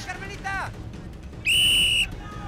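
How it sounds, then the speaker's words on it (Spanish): A referee's whistle blown at the start line of an Exatlón obstacle race gives one loud, shrill blast lasting about half a second, after a few brief distant calls and chirps. "Primer silbatazo para Diana"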